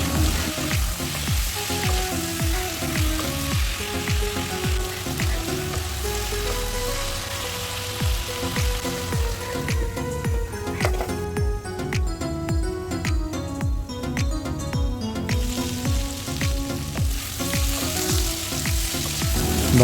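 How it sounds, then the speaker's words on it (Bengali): Bata fish frying in oil seasoned with salt and turmeric gives a loud, continuous sizzle with crackling pops and occasional stirring throughout. "ভেজে নেব।"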